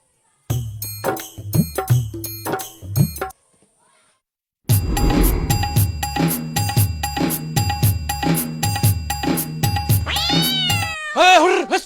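A cat meows loudly and close by in a rapid run of repeated cries, falls silent briefly, then resumes with long, insistent meows ending in a drawn-out wail.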